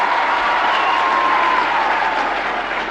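A large audience at a Chief Minister's public programme in Jodhpur claps loudly and continuously, a dense, even roar of applause filling the whole stretch.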